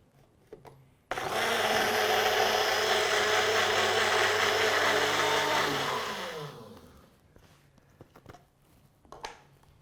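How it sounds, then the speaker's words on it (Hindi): A kitchen blender whirs loudly and steadily for about five seconds, mixing an eggless Caesar dressing with mayonnaise, then winds down as the motor slows, with faint clatter before and after. "मेयोनीज लगी थी इधर, वो भी ब्लेंड हो जाए।"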